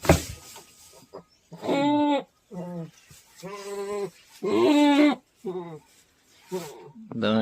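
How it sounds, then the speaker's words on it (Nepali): A sick goat with thiamine deficiency and polioencephalomalacia gives loud, strained, drawn-out bleats in repeated bursts, close by, with short quiet gaps between them. "यो बाख्रालाई चाहिँ थाइमिन डिफिसियन्सीको कारणले न्युरोलोजिकल प्रब्लम देखाएर यो अवस्थामा पुगिसकेको छ"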